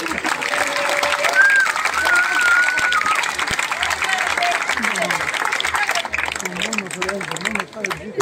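Audience at a live comedy show in Sant'Anna applauding and cheering steadily for several seconds, with voices and a whistle-like tone over the clapping, thinning out toward the end.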